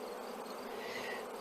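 Bees buzz steadily across a brood frame pulled from a nuc hive, a dense, even hum that holds at the same level throughout with no voices.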